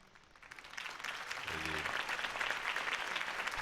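Crowd applause rises in a Batman video game after a Harvey Dent campaign speech, a moderate, swelling wash of clapping with a brief low tonal sound partway through.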